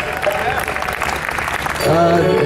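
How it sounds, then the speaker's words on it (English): An audience claps through a live music performance, with steady applause that is soon joined by sustained musical tones and a voice near the end. "Can I have a big applause from my son?"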